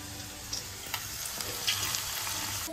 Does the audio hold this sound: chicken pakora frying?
yes